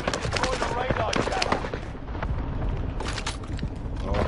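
Rapid bursts of video-game gunfire crackle and boom continuously, dense and loud, with scattered explosive hits throughout.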